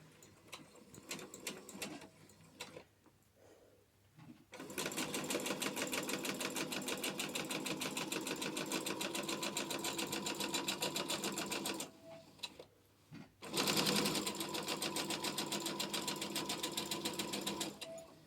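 A sewing machine stitches cotton fabric face masks one after another: a few short stuttering bursts, then long runs of rapid, steady mechanical whirring interrupted by a brief pause.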